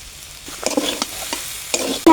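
Ginger-cumin paste being fried and stirred in a pan for vegetable khichuri, with a few quick scraping stir strokes over a soft sizzle in a short burst.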